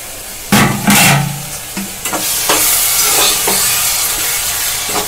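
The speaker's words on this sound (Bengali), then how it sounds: "নাড়তে দেখুন নাড়ার সঙ্গে সঙ্গে মিশে যাচ্ছে, এটা সফট হয়ে গেছে বলে।" Softened tomato stirred in a pan for homemade chowmein sauce, with a steady sizzle and repeated scraping strokes of the spoon, close and fairly loud, no talking.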